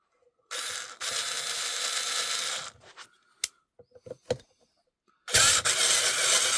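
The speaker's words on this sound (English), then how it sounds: "So I'm going to stick that screw back in here on this side too." A screw being driven back into a Kirby Sentria vacuum, with long stretches of ratcheting screwdriver whirring separated by a few sharp clicks and knocks, close and loud.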